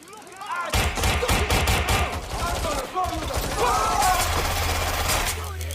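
Dense, rapid gunfire crackles through a Watch Dogs Legion firefight, overlapping bursts of shots filling nearly the whole stretch at close range with little pause, while voices talk faintly underneath.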